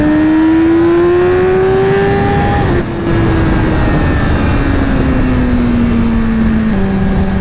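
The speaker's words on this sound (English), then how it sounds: "I love doing an aggressive start on this bike." A Yamaha R6 motorcycle engine revs hard on an aggressive start, its pitch climbing steadily, dropping briefly at a shift, then droning on loud and close.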